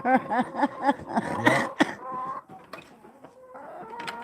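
Farm fowl near a pond give a rapid run of loud, close clucking and quacking calls, then quieter scattered calls trailing off.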